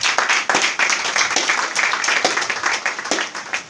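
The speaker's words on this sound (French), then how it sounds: "On applaudit." People close by clap together in a loud, brisk run of hand claps with individual slaps standing out, at a religious gathering where a ram is being blessed before a meal.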